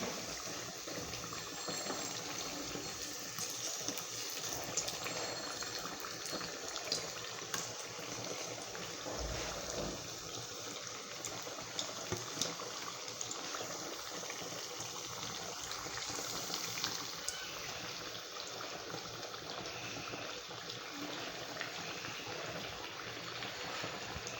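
Moong dal vadas fry in hot oil, a steady soft sizzle and bubbling crackle that runs continuously at low level for the whole stretch, with no talking over it.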